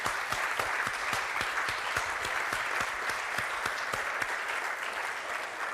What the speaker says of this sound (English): Big hand of applause, please.